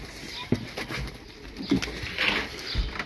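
Ankara pigeons coo in soft, low repeated calls, with a few short bursts of wing flaps and rustling nearby outdoors.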